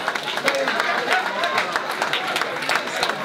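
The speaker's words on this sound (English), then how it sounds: "Give her a round of applause" An audience applauds a raffle winner at a cancer charity event, with brisk, continuous clapping from a crowd of moderate size and chatter and voices mixed in.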